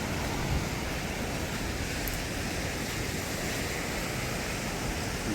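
Sea waves at a beach give a steady, even roar of surf, with wind noise and no voices.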